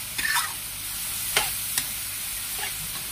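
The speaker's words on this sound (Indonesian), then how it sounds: "Kita tumis sampai dia punya tomato tuh, tomat hijau tuh agak lembek ya guys ya." Green tomatoes stir-fried with pickled bird's eye chillies in a pan give a low, steady sizzle broken by a few sharp spatula scrapes against the metal, with no voices.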